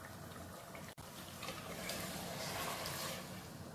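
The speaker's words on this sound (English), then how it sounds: "And then add some water in it" Water is poured into a pan of meat and pea curry, a soft steady splashing and gushing with a brief break partway, then continuing as the liquid fills the pan at close range.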